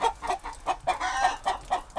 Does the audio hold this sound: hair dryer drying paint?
no